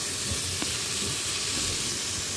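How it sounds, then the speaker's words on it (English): Sausage meat searing in a pot for chili rice, giving a steady hiss and sizzle that runs evenly through the whole stretch, close and moderately loud, with no talking. "now we're getting a good sear going on our meat"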